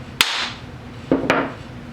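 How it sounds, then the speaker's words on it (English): Three sharp knocks of a hammer against the back of a wooden smoothing plane: one, a pause, then two close together, crisp and near with short ringing tails. "strike the back of the plane firmly"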